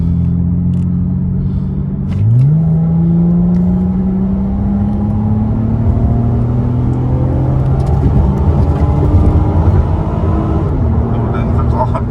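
A Honda Accord G8 with a 3.5 V6, running on V-Power fuel, pulls hard as its engine note climbs steadily through a long rising sweep. The roar is close and loud, with a brief dip near the end as it shifts.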